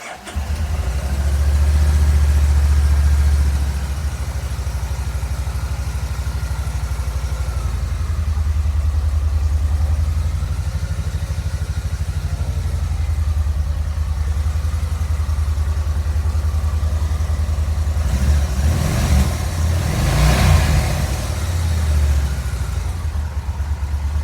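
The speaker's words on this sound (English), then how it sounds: "We've got fuel injection noise." A Kawasaki Vulcan Nomad 1600 motorcycle engine, freshly fitted with trimmed spark plug wires, runs at a steady idle. A continuous low rumble carries the faint whirr of fuel injection, with a brief swell of revving near the end.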